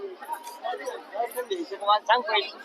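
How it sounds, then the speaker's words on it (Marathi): Overlapping chatter of a crowd packed into a long queue at a temple, a close, steady babble of voices with a few louder voices near the end. "रांग लागल्या भरपूर खूपच गर्दी आहे"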